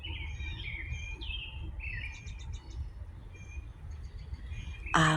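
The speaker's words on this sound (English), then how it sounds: "the birds are singing up a storm, calling for their mates" Wild birds singing on a spring morning in northeast Ohio, several clear chirps and trilling phrases at moderate distance over a low outdoor rumble, with a brief loud burst at the end.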